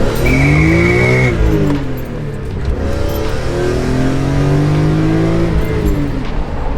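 A BMW M3 accelerates hard on a wet road, its engine revving up loudly and close while the slippery tires spin and squeal, with no voices.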